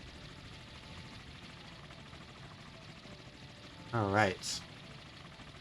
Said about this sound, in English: we still have our helicopters going back in